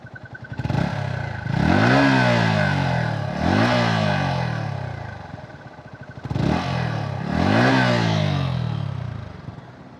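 A new Yamaha XSR 155 motorcycle engine revs hard four times in two pairs, each rising sharply to a high whine and then falling back to a rough idle, close by.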